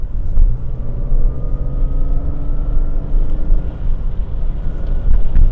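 A Jaguar S-Type car: a deep, steady engine rumble with a throaty exhaust note, close and loud throughout, with no voices.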